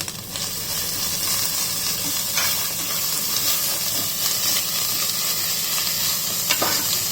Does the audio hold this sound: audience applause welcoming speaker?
no